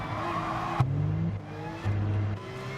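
A race car in GT Sport pulls out of the pits, the engine droning and shifting pitch as it accelerates, with a sharp tonal jump and brief tire noise; steady loud engine throughout, no voices.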